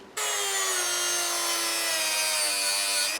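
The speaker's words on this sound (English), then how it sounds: "try and cut a slit in this remainder of the bolt" A broken bolt remnant from a Toyota MR2's engine mount being slit by a power cutting tool, one loud, steady, high-pitched grinding whine lasting about three seconds, close and uninterrupted.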